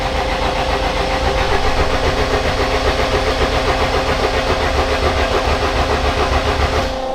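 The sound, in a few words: Honda Civic engine cranking over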